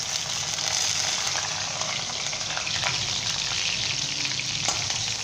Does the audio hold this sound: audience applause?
no